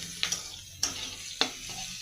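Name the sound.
onion and green chilli tempering frying in oil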